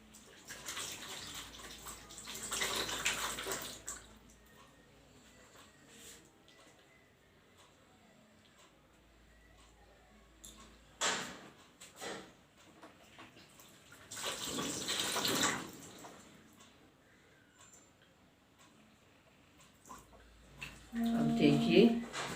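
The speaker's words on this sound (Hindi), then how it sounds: "हल्का सा पहले मैं इसे पानी का हाथ लगा के गीला कर रही हूँ," Water splashes in short bursts as hands are wetted during a facial cleansing, the splashing coming in a few separate quiet spells close by, with someone talking between them.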